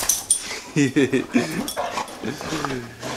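A pit bull shelter dog gives a run of short, high whimpers and yips at close range, several quick cries in a row, with a person's voice heard between them.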